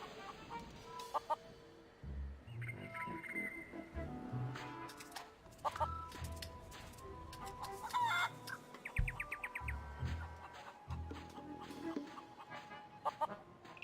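Feral chickens on Plunder Island in the game The Curse of Monkey Island cluck and squawk in irregular bursts, with a rooster-like crow, over soft background ambience, no talking.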